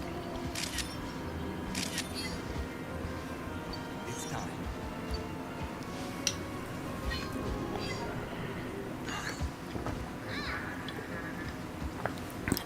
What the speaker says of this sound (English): I think it's the shutter noise that they don't like.